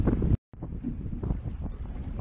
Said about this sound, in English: so sorry if you hear the wind blowing